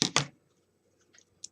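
Scissors snip through a paper or fabric rose petal to trim its pointed base, two quick close cuts at the start followed by faint small clicks and a short snip near the end.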